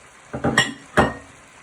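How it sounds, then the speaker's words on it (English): Mince, onion and garlic stirred in a pan, giving a few close scraping clinks of a utensil against the pan at a slow, uneven pace, with a faint sizzle underneath. "give it a good stir so the onion and garlic bring out the flavour"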